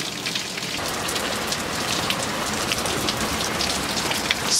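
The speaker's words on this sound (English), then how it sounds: "it's pouring rain out" Heavy rain pours down steadily outside a house, a dense, continuous hiss of drops drumming on surfaces with no pauses, loud and close throughout.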